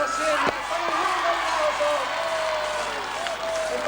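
Crowd applause at the 1986 Palio das Cjarogiules race in Paluzza, a steady broad clapping wash sustained throughout, heard from a distance with a commentator talking over it.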